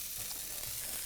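Lamb loins sizzle in a hot pan, a steady, close, crackling fry that continues without a break for about a second, with no talking over it.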